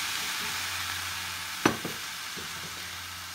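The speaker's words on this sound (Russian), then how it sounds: "Далее заливаем бульон." Broth is poured over a meat filling frying in a pan, bringing a soft steady sizzle with one sharp splash and a few quieter clinks, heard close up with no talk.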